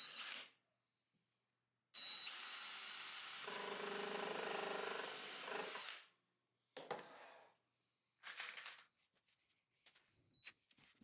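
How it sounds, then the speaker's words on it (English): A drill with a countersink bit bores into a 2x4 in one sustained, loud burst of about four seconds, followed by shorter, choppier bursts and handling clatter as screws are driven. "Pre-drill with a countersink drill bit first and then screw."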